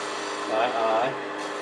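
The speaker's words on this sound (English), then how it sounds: "I'm going to use a spindle gouge to get this shape a little rounder here" A spindle gouge cuts into a spinning wooden snowman ornament on a lathe, making a brief close rasping hiss that swells and then fades, over a steady motor hum.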